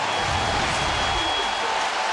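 A packed baseball stadium crowd roars steadily at a ninth-inning St. Louis Cardinals game as Albert Pujols steps up, a loud, unbroken wall of cheering and clapping throughout.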